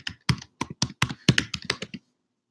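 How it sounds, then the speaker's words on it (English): Rapid bursts of keystrokes on a computer keyboard, about eight clustered clicks over two seconds, close and crisp, then stopping into silence. "Typing too fast for me, slow computer."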